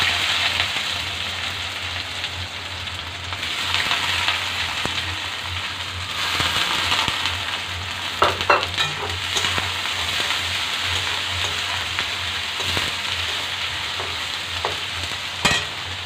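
Chopped onion and chilli fry with cumin in hot oil, a dense, continuous close sizzle broken by a few sharp clatters of stirring.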